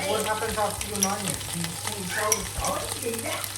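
Mustard seeds and carom seeds crackle and sizzle steadily in hot oil, a bright continuous frying hiss, while a voice talks over it throughout.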